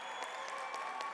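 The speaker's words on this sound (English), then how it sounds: "Thank y'all to the seven people over here who clap every time they say my name." Brief burst of applause from a small group at a conference awards banquet, a soft patter of scattered claps in a hall with no voices.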